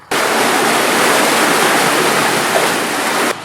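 Water from a narrowboat canal lock's opened paddles roars out as a loud, steady torrent, a continuous broadband rush that holds unbroken for the whole stretch with no voices over it.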